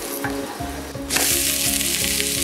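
Uthappam flipped on a pan and frying in oil or ghee, a few soft clanks of the flip and then a loud, steady sizzle that jumps up sharply and holds.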